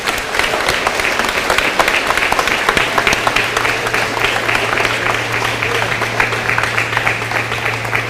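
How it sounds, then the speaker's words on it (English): Sustained applause from a school assembly audience for eighth grade award recipients, dense clapping that fills the room at a steady level throughout, with a low hum underneath. "Let's give them a nice round of applause."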